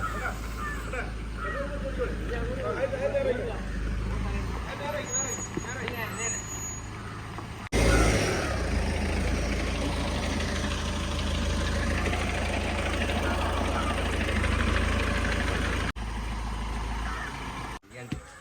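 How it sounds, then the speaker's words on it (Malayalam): A stone-laden truck idles at a roadside construction site, its low steady engine rumble running throughout, with a brief louder surge midway, while people talk over it. "അപ്പോൾ നമ്മളെ വർക്കിന് ആവശ്യമുള്ള കല്ലായിട്ട് വണ്ടി വന്നിട്ടുണ്ട് കേട്ടോ"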